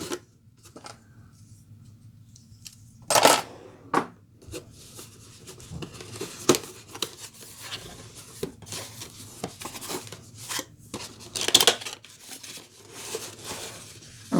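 Cardboard CPU box for a Ryzen 7 2700X slit and torn open with a knife, giving scattered scraping, tearing and crinkling bursts with a few sharper rips, close and fairly quiet.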